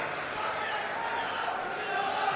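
Crowd at an outdoor political rally applauds in a dense, sustained wash of clapping and cheering that holds steady throughout, with voices mixed into the noise.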